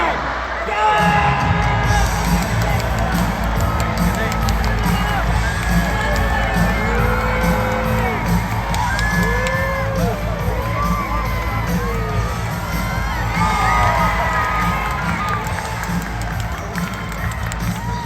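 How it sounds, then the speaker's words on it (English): Loud crowd of children and adults cheering, shouting and whooping at a Canadian dog show race, a steady roar that carries on throughout with voices rising over it. "The louder you cheer, the faster your super dog will go."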